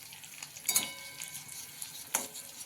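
Stuffed long capsicum peppers fry in a pan while being turned, giving a soft, quiet sizzle with a couple of brief scraping clinks from the stirring utensil, close but faint.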